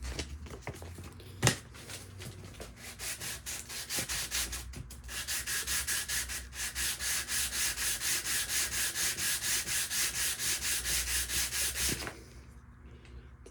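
An aluminum bass guitar nut is sanded by hand on 220-grit paper, giving quick rhythmic back-and-forth scrubbing strokes that settle into a steady even pattern after a few scattered rubs and knocks, close up, with no talking.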